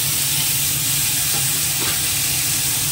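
Green chili and tomato paste frying in a pan of hot oil with a dried red chili, giving a steady, close, loud sizzle that carries on without a break and with no voices.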